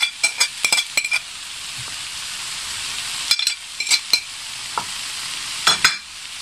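Green peas, raisins and flaked milkfish get stirred in a sizzling pan, a spatula scraping in quick bursts of clinks between stretches of quiet frying.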